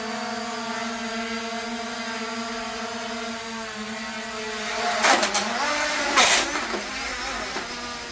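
A V168 GPS toy drone flying outdoors gives a steady buzzing whine of small motors with tonal harmonics, which shifts pitch and breaks into gusty bursts near the end as it lands, with no voices over it.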